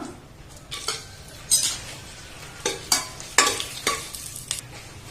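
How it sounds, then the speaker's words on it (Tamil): Cashew nuts roasting in ghee for ghee rice, with a light sizzle beneath repeated spoon scrapes and clinks against the pan, coming in several distinct stirring bursts. "கேஷ்யூ நட்ஸ் மட்டும் தான் சேர்த்துருக்கேன் சேர்த்து ஃபர்ஸ்ட் வறுத்து எடுத்துடலாம்"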